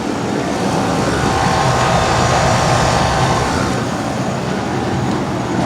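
A 2006 Rheem Classic series 3.5-ton central air conditioner with an Emerson fan motor running outdoors, a loud steady broadband whoosh of fan and compressor that holds constant throughout with no talking.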